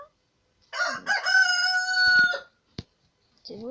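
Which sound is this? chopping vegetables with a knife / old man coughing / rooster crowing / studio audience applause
rooster crowing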